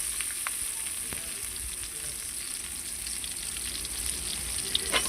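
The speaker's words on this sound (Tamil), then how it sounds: "வெங்காயத்தை நம்ம போட்டு நம்ம நல்லா வதக்கிக்கலாம்." Onions sautéing in a pan for hotel-style sambar, a dense continuous hissing sizzle with a couple of faint utensil clicks, close and even throughout, no one talking.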